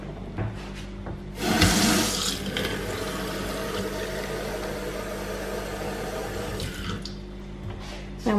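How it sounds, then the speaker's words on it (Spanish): Tap water gushes into a baby bottle, a steady rushing stream that starts abruptly, runs loud and close for several seconds, then cuts off. "voy a llenar el biberón de agua"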